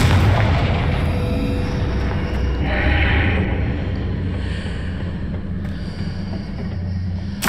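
A Confringo explosion spell in Hogwarts Legacy booms with a heavy, rumbling blast that rolls on for several seconds, loud and dense with crackling bursts, without talk.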